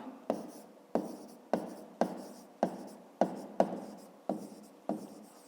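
Pen or pencil strokes on paper as a fifth-grade math example is written out, about nine sharp, evenly spaced scratchy marks, each with a quick attack and short fade, close and clear with no talking.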